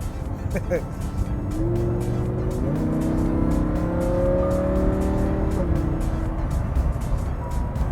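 A Lamborghini sports car drives at low speed with a steady, fairly loud engine drone whose pitch climbs, drops and climbs again through gear changes, heard from close by.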